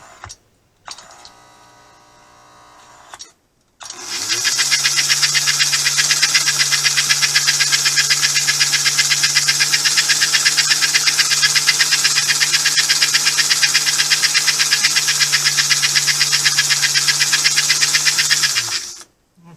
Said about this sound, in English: When you hear that buzz, that means an engine is moving as fast as it can, and everything's free, and it's doing what it's created to do.